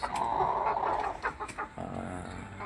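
A wild chicken caught in a trap clucks in a quick series of short, close calls over a faint background hiss.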